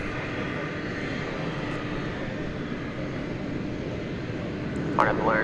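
A passenger airplane taxis for takeoff at DFW Airport, its engines a steady broad roar throughout, with a brief higher whine near the end.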